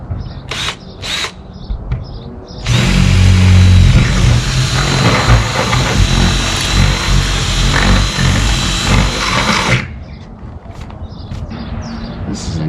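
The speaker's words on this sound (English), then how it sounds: "Next step is to put a bigger bit on there and make a bigger hole." A power drill with a larger bit bores through an aluminum cargo trailer door, running loud and continuous for about seven seconds at close range, with quieter sounds before and after.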